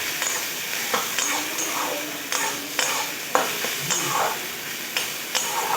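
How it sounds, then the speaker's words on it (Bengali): Onions and peanuts fry in a pan over a low flame, a steady soft sizzle broken by repeated clinks of a spoon stirring against the pan. "পেঁয়াজগুলো আমি বাদামের সঙ্গে খুব ভালো করে ভেজে নেব লো ফ্লেমে।"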